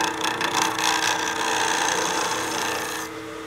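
A wooden cigar case tube trimmed on a lathe, the cutting tool giving a continuous rasping, scraping sound close by that drops slightly in level near the end.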